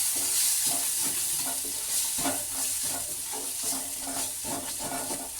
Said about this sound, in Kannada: ಸ್ವಲ್ಪ ಗರಂ ಮಸಾಲ ಈಗ ದೋಸೆ ವಾಸನೆ ಹೋಗೋ ಥರ ಫ್ರೈ ಮಾಡ್ಕೊಳ್ಳೋಣ